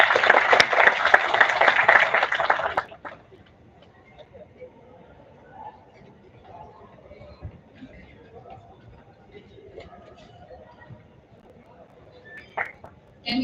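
Audience applause at a college induction ceremony, a dense burst of clapping for about three seconds that cuts off into quiet room murmur, with a voice speaking near the end.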